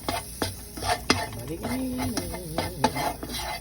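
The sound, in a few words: mango and ginger frying in a skillet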